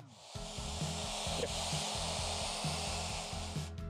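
A KICA Jetfan 2 electric air duster fan is turned up from its lowest setting, rising into a loud, steady whooshing blast of air with a pulsing motor tone underneath.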